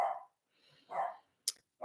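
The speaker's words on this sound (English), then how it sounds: "my husband came in, the dog barking" A dog barks a few times in short bursts at a distance, with brief gaps between barks.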